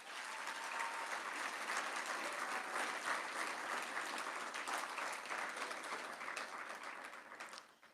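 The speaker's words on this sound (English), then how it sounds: "we need to give another round of applause to our amazing 12 finalists" An audience at an award ceremony applauds steadily for several seconds, a dense wash of clapping that holds evenly, then tapers off at the end.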